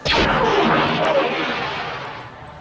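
Star Wars turbolaser blast: a loud, sweeping zap with a falling tone that sounds once at the start, then decays into a long rumbling tail over a couple of seconds, with nothing else heard.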